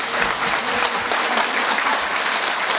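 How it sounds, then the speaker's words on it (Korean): An audience at an academic tea culture symposium claps for one another, a dense, even roar of applause held steady throughout. "서로가 서로에게 박수 한번 주도록"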